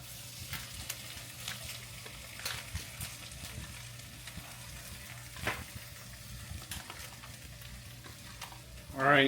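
Chorizo fries in a pan with a soft continuous sizzle, punctuated by scraping stirs and utensil knocks at an uneven pace, ending in a louder burst of crackling.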